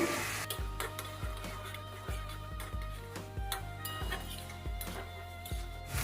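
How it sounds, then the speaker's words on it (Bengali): A spatula repeatedly scrapes and clinks against a pan as chilli paste, ginger paste and ground spices are sautéed for a prawn and banana-flower dish, with soft sizzling under the rhythmic metallic taps. "এবার সব মশলাগুলো দিয়ে আমি কষিয়ে নেব।"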